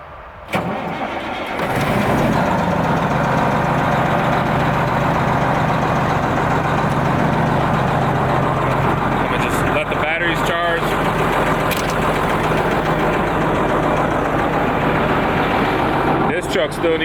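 A truck engine, recently used for waste hauling, cranks and starts after a short pause, then settles into a loud, steady close-up idle rumble with a few faint clicks and knocks over the running motor.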